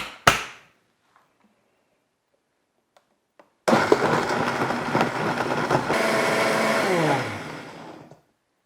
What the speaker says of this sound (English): we're just going to blend this up until it is smooth and creamy